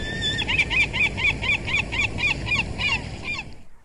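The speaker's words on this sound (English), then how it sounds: "Seagull." A seagull calls in a quick, rhythmic series of about a dozen sharp squawks. The calls are clear and fairly near and stop abruptly.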